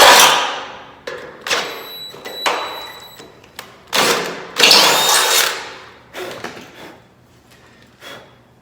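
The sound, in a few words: power drill running a 3/8 inch drill bit through frame holes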